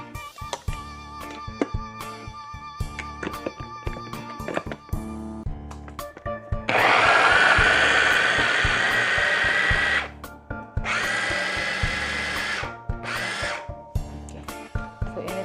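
An electric grinder runs on garlic in two loud whirring bursts, the first about three seconds and the second about two, with clattering handling noise before, between and after, close and with no talking.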